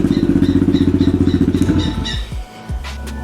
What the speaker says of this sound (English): Got the bike started.